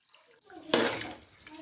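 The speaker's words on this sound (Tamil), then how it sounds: "ஒரு டம்ளர் அரிசிக்கு ரெண்டு டம்ளர் தண்ணி சேர்த்துடலாம்" Water is poured into a pressure cooker holding soaked rice for bottle gourd rice. A quiet lead-in gives way to a sudden splashing pour that trails off into a softer trickle.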